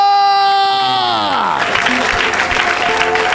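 A church congregation cheers and claps in acclamation, a loud burst of crowd applause and shouting that rises after a sustained sung or shouted tone and continues to the end.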